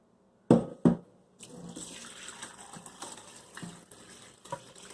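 Sorrel hibiscus juice pours from a pot with cool-touch handles into a container, a steady close liquid stream running for several seconds after two sharp knocks of the pot being handled.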